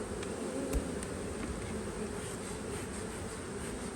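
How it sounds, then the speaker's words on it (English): A dense, steady hum of many honeybees buzzing close by at an open beehive during frame inspection, continuous and even throughout with no talking. "Let's get some bees off the top of these frames"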